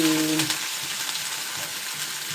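Onion and ginger hit hot oil in a pan with a loud, steady sizzle, a brief sharp burst at the start then a continuous close frying hiss.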